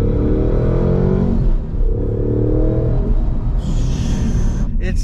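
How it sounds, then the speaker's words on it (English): A supercharged 2021 Ford Mustang Mach 1 with a Whipple-style blower runs in quiet mode, its steady engine rumble carrying a faint whine, with a brief high hiss near the end. "the blower whine itself, it sounds like a turbo almost because it's a century blower"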